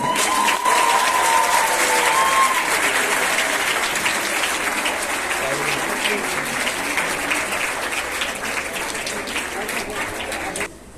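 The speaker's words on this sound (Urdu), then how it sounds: "آپ کی پرزور تالیوں" Audience applause at a large award event, a loud continuous roar of clapping from a big crowd lasting around eleven seconds, gradually easing before cutting off abruptly.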